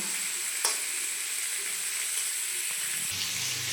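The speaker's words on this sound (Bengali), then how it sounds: "ভালো করে ভেজে নেব" Pointed gourd frying in a pan gives a steady, close hiss of sizzling oil that runs without a break, with one short clack of a utensil near the start and some low rumble toward the end.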